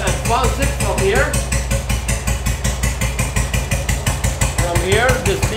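A WW2 BSA M20 motorcycle engine running steadily, a loud close rhythmic single-cylinder thump with mechanical clatter, its pitch sweeping briefly as the ignition advance is adjusted; someone talks over it.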